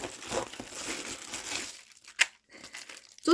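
Thin plastic Amazon mailer bag crinkling and tearing as it is cut open, a close, steady rustle for about two seconds, then a pause broken by a sharp snip and a final crackle.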